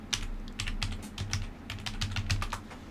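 Quick bursts of computer keyboard typing as a folder name is entered, close and crisp clicks in an irregular rhythm over a low steady hum.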